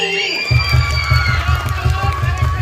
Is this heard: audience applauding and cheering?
yes